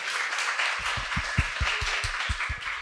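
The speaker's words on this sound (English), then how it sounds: "A big round of applause to organizer and speakers." Conference attendees at a network analytics day applaud organizers and speakers, a dense, even wash of clapping with a series of low rhythmic thumps running beneath it.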